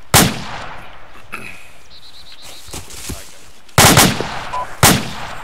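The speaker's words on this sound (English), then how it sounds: "I can see the trace of fire coming from the LMG." In the ArmA 2 video game, bursts of light machine gun fire ring out in the woods, with sharp loud shots at the start and in a pair near the end and fainter, scattered reports between them.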